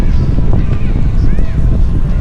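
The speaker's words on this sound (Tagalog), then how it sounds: "Kaya lang malakas ang hangin." Strong wind buffets the microphone beside a river with a man-made waterfall in Gabaldon, Nueva Ecija, a steady loud rumble filling the whole stretch while a voice talks over it.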